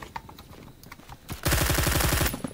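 Gunfire in the shooter game Phantom Forces: a few sparse shots and clicks, then a loud, rapid automatic burst for about a second near the end.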